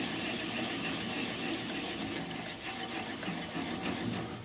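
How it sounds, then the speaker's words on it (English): A wood lathe spins steadily as a gouge, bevel riding against the bottom of a bowl near the headstock, cuts with a continuous dense whirring hiss at an even level throughout. "I'm just going to apply the bevel of the gouge to my left against the bottom of the bowl towards the headstock"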